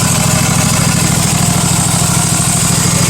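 A Husqvarna MZ5225 zero-turn mower engine idles steadily with its cover on, a loud, constant close-up drone with an even pulsing beat and no voices.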